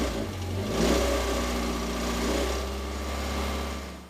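Ford Escort Mk2 engine idling steadily with a faint clutch-related noise in the mix, heard up close as a continuous hum with no talking.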